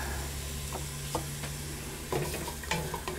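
Onions cooking in olive oil over medium heat make a soft, steady sizzle, with a few faint stirring scrapes and taps now and then.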